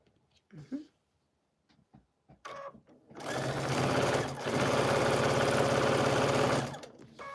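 A sewing machine stitches steadily for several seconds, loud and close, after a few quiet handling sounds at the start.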